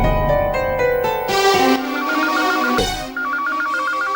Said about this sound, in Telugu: నాకు వేరే ఫోన్ వచ్చింది